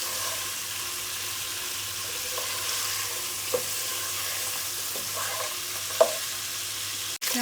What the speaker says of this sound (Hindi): अब इसे हमने तकरीबन 3 से 4 मिनट के लिए फ्राई करना है।